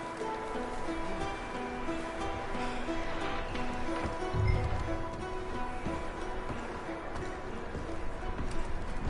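Horses moving in Red Dead Redemption 2, with a soft, steady clip-clop of hooves at mid distance near a cabin, laid under quiet outdoor ambience and sparse game sounds, with a low thump midway.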